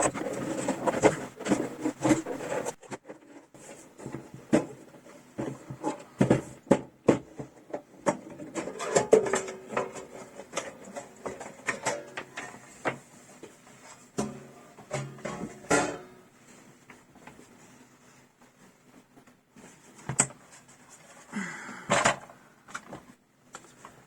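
Close, quiet work on a Technics SL-P333 CD player: scattered scrapes, screwdriver rubs, small clicks and the rattle of the metal lid being lifted off, with irregular pauses between handling sounds.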